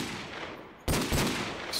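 A creeper explodes in the Minecraft video game: a sudden loud blast breaks in after a quieter stretch, then a rumbling roar continues with a second burst near the end.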